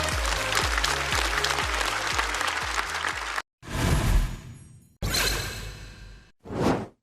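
Studio audience claps at a Chinese stand-up comedy show in sections, with steady music and a beat at first, then bursts of dense applause split by brief silences.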